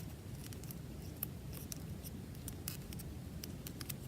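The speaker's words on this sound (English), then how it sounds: "Cut the piece out right here, just a little piece, not a big piece." Scissors snipping a small piece from paper folded twice for a paper flower petal, heard as a few quiet, close crisp snips over a soft background hiss.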